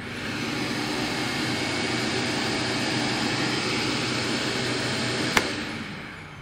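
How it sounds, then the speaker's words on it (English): A shop vac powered by a portable LiFePO4 power station runs with a steady, loud whooshing drone that swells slightly, then a short sharp click near the end as it begins winding down. "No problem with the shop vac."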